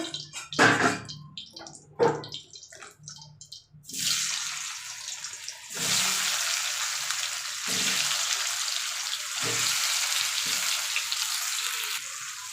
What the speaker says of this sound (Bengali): এবার আলুগুলো এর মধ্যে ভেজে নেব।